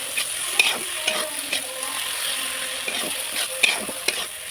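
Chopped tomato and spices frying in a pan, stirred with a utensil: a steady close sizzle broken by repeated scraping strokes and light clinks at an uneven rhythm, with no one talking.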